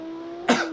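A single short cough bursts out from a commentator over a steady low engine-like hum from a Project CARS 2 GT3 race at Spa-Francorchamps.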